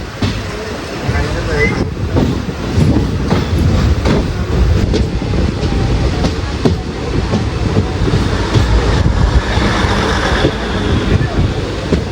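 A moving passenger train rolls through Parali station without stopping, with a continuous loud rumble and wheel clatter heard from on board and a voice faintly present beneath the noise.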